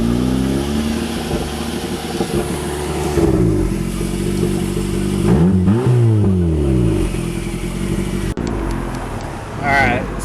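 A turbocharged 2ZZ engine in a Toyota MR2 Spyder rumbles loudly and steadily up close, with rising and falling revs swelling twice near the middle, then a brief cut and a faint whine near the end.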